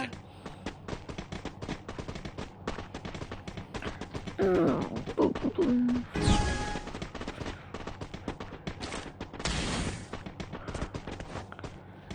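Rapid bursts of video game gunfire, dense repeated shots with a couple of louder blasts and whooshes midway, fairly quiet overall with occasional voice in the background.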